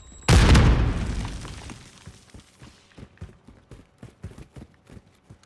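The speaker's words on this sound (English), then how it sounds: "Throwing Semtex." A Semtex grenade blasts in Call of Duty: Modern Warfare II, a loud, sharp explosion with a long rumbling decay, followed by a steady series of soft, rhythmic thuds like footsteps.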